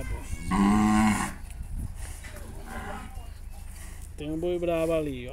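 A wild bull in a slaughterhouse corral gives loud, close lowing bellows, one at the start and another drawn-out one near the end. People talk in the background between the calls.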